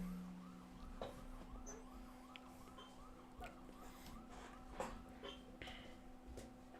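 An ambulance siren in a video game rises and falls in quick repeated cycles, faint and distant beneath a steady low hum.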